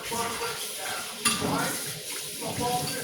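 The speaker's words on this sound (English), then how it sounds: "I'm rinsing my dishes, but they're going in the dishwasher" Tap water runs steadily as dishes are rinsed at a kitchen sink before going into the dishwasher, a continuous close hiss with a brief clatter partway through.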